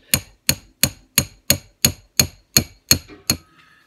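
A hammer taps a bullet casing held on a vise to expand its neck, about ten crisp, evenly spaced metallic strikes close by, each ringing briefly before the next.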